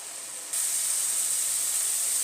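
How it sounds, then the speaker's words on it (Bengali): Mushroom masala fries in a kadai on a high flame, giving a steady, close hiss that jumps louder after half a second and holds evenly to the end. "হাইতে আমি একটু 2 মিনিটের মতো কষিয়ে নেব"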